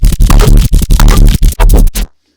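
A dense, loud music mix with drums and compressed instruments plays for about two seconds without an upward limiter, pulsing in choppy bursts before cutting off abruptly into silence.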